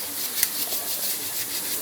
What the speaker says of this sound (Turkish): oraları zımparalıyor tekrardan